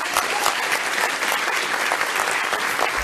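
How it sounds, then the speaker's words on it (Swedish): Audience applause welcoming an artist to the stage at a film and art event, steady clapping from a sizeable crowd filling the room throughout, fairly loud and close. "En varm applåd."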